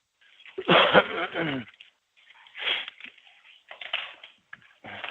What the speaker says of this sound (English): This is a big yawn.